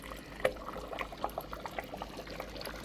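An air-driven bio-mechanical aquarium filter churning water, a steady close-up gurgle and trickle with small bubbly splashes throughout.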